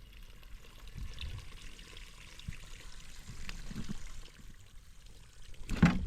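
Water trickles and pours onto garden plants during watering at a farm plot, a soft, uneven splashing that swells near the end, fairly close and moderately quiet, with no talking.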